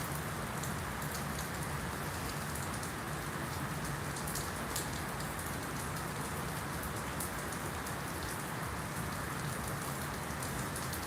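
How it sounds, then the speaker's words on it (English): Steady rain falling at Comiskey Park, a ballpark in Chicago, a continuous even hiss of drops with no talk, not pouring but unbroken throughout. "The rain is steady. It's not pouring, but it's steady"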